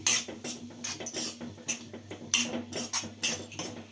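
A spoon scrapes and knocks around a pan as capsicum curry is mixed with chili powder. Close, rhythmic stirring strokes repeat about twice a second with no talking.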